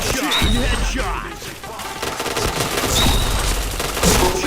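Rapid bursts of gunfire from a shooting video game, continuous loud shots with dense rattling fire throughout and faint voices in the background.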